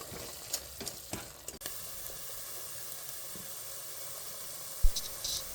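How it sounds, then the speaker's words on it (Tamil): Coriander paste with salt and turmeric frying in oil for coriander rice, a soft steady sizzle with a few stirring scrapes and clinks near the start and a sharper knock toward the end. "பேஸ்ட் நல்லா ட்ரை ஆகி எண்ணெய் நல்லா பிரிஞ்சு வர ஆரம்பிச்சிடும்."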